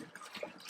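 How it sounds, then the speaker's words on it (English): Water running into a homebrew pot for a two-gallon batch, a brief splashing gush with one bright bubbling blip, moderately close. "Adding 4 gallons of water for my 2-gallon batch."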